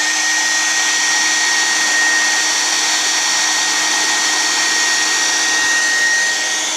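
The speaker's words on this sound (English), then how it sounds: "I turn the hairdryer on and see what I can do with it" A hair dryer blows with a steady, loud, unbroken whoosh from start to finish, close by and with no voices.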